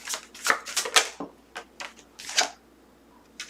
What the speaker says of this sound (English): I saw it twice while I was shuffling.